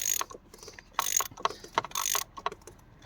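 A ratchet undoing the 32mm nut on top of a car's oil filter housing during an oil service: repeated close, sharp clicking bursts of the pawl, several short runs with pauses between.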